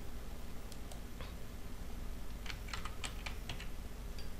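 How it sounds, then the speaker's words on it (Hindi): Password keys tapped on a computer keyboard while creating a user in billing software, a loose run of light clicks clustering into a quicker burst midway, fairly close over a steady low room hum. "फिर हम पासवर्ड एंटर करेंगे इस यूज़र के लिए"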